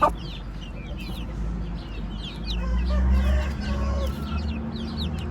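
A rooster among hens and chicks in a backyard flock clucks and calls repeatedly over a dense bed of fowl chatter and low rumbling background noise, with faint bird chirps on top.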